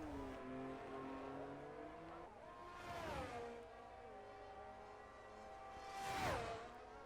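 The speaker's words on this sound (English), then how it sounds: "Number 7 on the McLaren is coming onto the penultimate straight and into the final corners." A McLaren racing car in a racing video game screams along a straight, its high harmonic engine note rising and falling through gear changes, with two quick whooshing passes as cars sweep close by.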